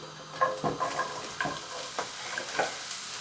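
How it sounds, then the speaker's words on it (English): Chopped onions go into a hot pan on a home stove, sizzling and being stirred, with several soft clattering scrapes and bursts of frying over a steady low hiss, close and moderately loud, no talking. "Right, so first thing that's going in is the onions."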